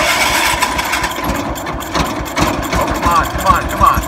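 A 1978 IH Cub Cadet 1000 tractor engine that sat for 20 years turns over with a rough, uneven mechanical chatter, fairly loud and close, while a man mutters impatiently over it.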